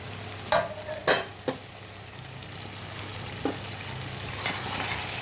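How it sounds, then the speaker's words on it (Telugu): Tomato chicken curry fries in a pan with a steady low sizzle, broken by several scraping clanks of a spoon stirring against the pan, close and moderately loud, with no talking. "చక్కగా ఫ్రై అవుతుంది ఫ్రెండ్స్"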